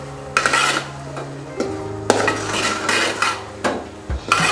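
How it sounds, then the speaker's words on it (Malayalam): A spoon stirs avial, a Kerala mixed-vegetable dish, in a pot after homemade sour curd is added, giving a series of close metallic clinks and scrapes at an uneven pace, with no talking. "ഇളക്കി കൊടുക്കുക"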